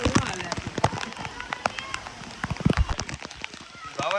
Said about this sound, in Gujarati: કેવો વરસાદ છે?